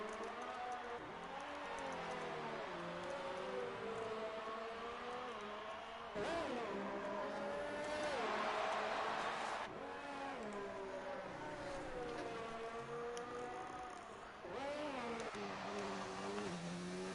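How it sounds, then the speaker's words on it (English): Formula 2 race car engine at the Singapore street circuit, revving hard with rising and falling harmonic pitch sweeps through gear changes, loud and continuous with no talk. "I saw some nasty revving of the engine from Fruity Pebbles there."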